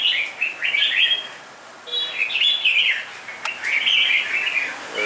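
A caged songbird sings in bright, rapid chirping phrases. Short pauses separate the bursts, and the song is clear and close against a quiet indoor background.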